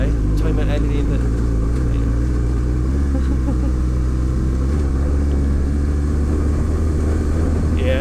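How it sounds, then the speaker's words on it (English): A car engine revs uphill in second gear on new tires, a loud, close and continuous low rumble with wind noise throughout. "Yeah, just letting the engine play a little."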